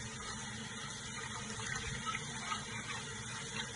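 Oxtail meat being rinsed in cold water, with a steady, faint wash of running and splashing water throughout and no talking.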